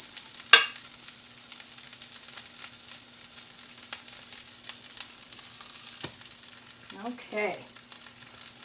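Egg-dipped white bread frying in a pan, a steady soft sizzle running throughout with a few clinks of utensils, while a voice speaks briefly.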